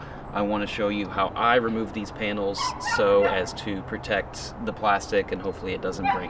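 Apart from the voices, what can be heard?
neighbor's dog barking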